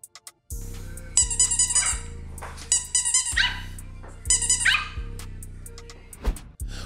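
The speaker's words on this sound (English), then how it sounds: "Meet the charming Yorkshire Terrier puppy as he barks at a seemingly toy ball." A Yorkshire Terrier puppy barks at a toy ball, sharp high yips coming in several close bursts over a low steady hum, loud and near.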